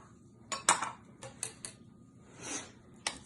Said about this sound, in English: I'm mixing all this together. We're mixing very well.